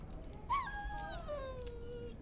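A dog in the video game Dragon Age: Origins gives a single rising whimper, then a long, thin whine that slowly falls and fades over quiet game ambience.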